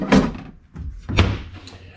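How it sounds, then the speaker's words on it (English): A slide-out trash can drawer in the kitchen of a tiny house on wheels, with ball-bearing drawer guides, rolling and thudding shut in two close, solid bumps with a brief slide between them. "There's a slide out trash can."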